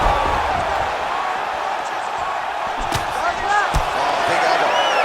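In the UFC 5 video game, an elbow strike lands during a fight night bout. A couple of dull, punchy impact thuds cut through a constant roar of arena crowd noise.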